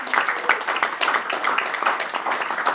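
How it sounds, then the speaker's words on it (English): An audience claps for two California Assembly debate candidates at a Rotary event, a brief, moderately loud patter of hands in a room with some voices mixed in. "Give them a round of applause."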